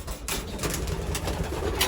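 Racing pigeons coo inside their loft, soft throaty calls repeating over a faint background hiss and a few scattered rustles, with no speech.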